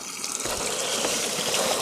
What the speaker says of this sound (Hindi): इन पत्थरों के बीच से आ रहा है और लगातार इस तरह से पानी बहता रहता है